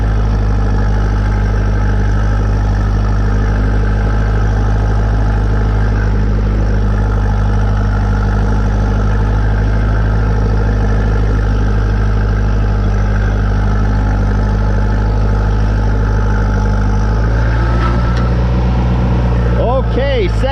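A tractor engine runs loud and close while it plows snow with a blade, droning steadily for the whole stretch and shifting pitch near the end.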